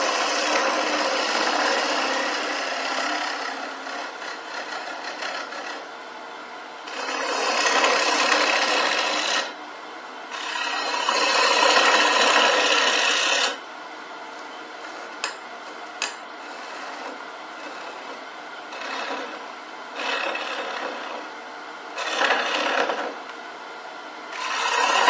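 A wood lathe turns a birch bowl as the tool removes material in loud rasping bursts, separated by quieter stretches of the spinning lathe.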